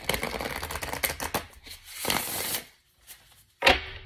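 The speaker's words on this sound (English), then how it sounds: "One more shuffle." A deck of tarot cards being shuffled by hand in quick riffling bursts, close and crisp, with short pauses between and a sharp final flick.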